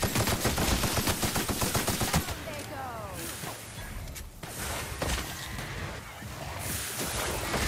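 Gunfire from The Outer Worlds video game, a rapid automatic burst at the start followed by scattered shots and combat noise, loud and close, with brief voices in the mix.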